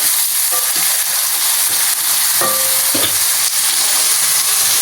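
Onions frying in a pan with a little coriander for a Telugu fish pulusu, a steady loud sizzle throughout, with a few faint utensil clinks and no talk.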